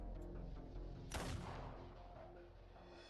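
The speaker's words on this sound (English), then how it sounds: "It's just some friendly shooting practice." Gunfire from shooting practice in a video game, sounding as one heavy distant boom that rolls out into a long fading rumble over a steady low background drone.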